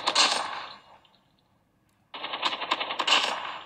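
Automatic gunfire in the mobile game Call of Duty Mobile: a loud, rapid burst that stops and drops into near silence. A second sustained rattling burst follows, close and dense, with no talk over it.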